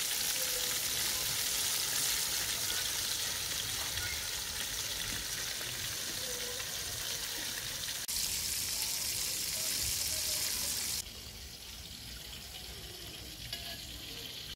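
Chicken pieces frying on a high flame, a dense, even crackling hiss of hot oil that drops noticeably quieter toward the end.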